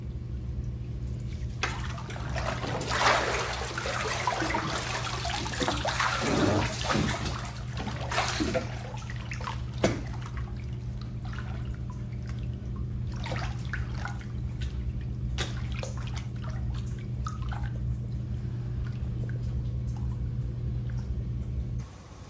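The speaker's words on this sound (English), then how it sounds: "I'm gonna go take a shower now." Steady shower water running in a horror thriller scene, a continuous broadband hiss with occasional drips and splashes, fairly close and alone without speech for about twenty seconds.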